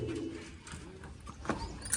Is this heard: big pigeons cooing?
yes